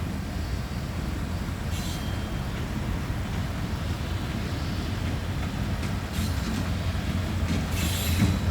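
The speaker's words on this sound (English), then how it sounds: "Got a CSX locomotive over there." A steady, dense low rumble of a CSX freight locomotive rolling through a rail yard in Jacksonville, Florida, with a few faint high squeals of wheels on track near the end. It holds at a constant moderate loudness throughout, without talk.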